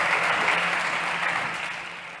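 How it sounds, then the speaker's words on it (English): An audience applauds a speaker after a startup pitch at an energy-transition competition, with dense clapping that starts strong and slowly tapers. "So please, big applause for Joanna."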